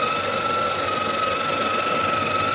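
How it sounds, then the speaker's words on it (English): A Sage espresso machine grinder grinds coffee beans into a portafilter, giving a steady loud mechanical whir with a high whine that runs continuously throughout without pause. "So I'm gonna insert my portafilter into my grinder."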